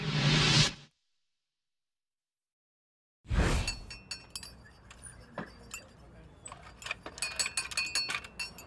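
A spoon stirs loudly in a glass, giving a string of bright, close clinks and jangles after a short silence. Light rustling runs underneath.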